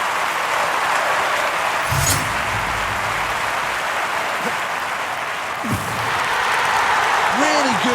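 Stadium crowd applause in the London 2012 Olympic video game, a broad, steady wash of clapping and crowd noise filling the whole stretch, with a commentator speaking over it.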